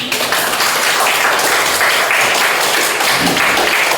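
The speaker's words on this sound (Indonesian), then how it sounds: "tepuk tangan" Students in a classroom group presentation applaud, a loud, steady wash of clapping that continues evenly without pause.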